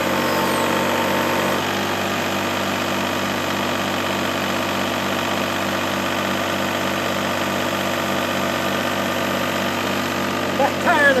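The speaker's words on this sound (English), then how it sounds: "I'm going to go ahead and throttle it up to 2000 RPM" A Kubota tractor engine runs throttled up to 2000 RPM, a steady close droning rumble with a constant mechanical hum throughout, with a few light clanks near the end.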